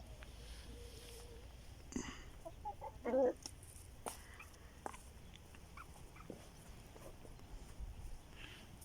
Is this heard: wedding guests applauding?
no